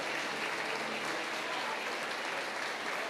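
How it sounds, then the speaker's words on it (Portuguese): A church congregation applauding in worship: steady, dense clapping fills the room throughout, with faint voices mixed in. "Você pode aplaudir ao Senhor em nome de Jesus."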